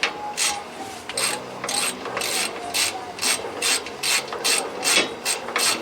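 A ratchet wrench tightens a bolt on a Kenworth T800 truck, clicking in about a dozen quick, evenly spaced bursts, close and fairly loud, with no talking.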